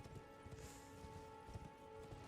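Horse hooves clip-clopping in the video game Elden Ring, a quick, soft, rhythmic patter of galloping steps heard faintly and alone.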